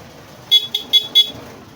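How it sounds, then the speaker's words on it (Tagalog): Four short PIAA car horn honks in quick succession, the second briefly clipped, over a low steady engine hum. "tapos tutunog yung busina yan tetesting natin"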